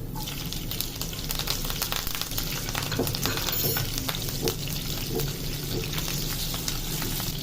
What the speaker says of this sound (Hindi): 2 बारीक लंबी कटी हुई मिर्चें डाल देंगे।